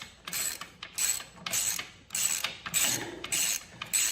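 A ratchet loosens a nut on a Honda Super Hawk motorcycle, with close, crisp clicking bursts repeating about every half second as the handle swings back and forth.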